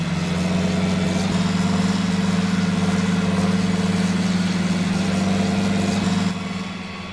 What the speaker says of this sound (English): Listen to this tractor.